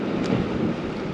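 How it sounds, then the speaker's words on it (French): Wind buffets a sea dike during surfcasting for fish, a brief, steady rushing roar that blusters against the microphone. "malgré le vent qui tape"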